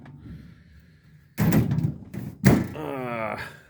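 Two heavy metal slams of twisted toolbox drawers being pushed shut, loud and close, the second followed by a brief metallic rattle.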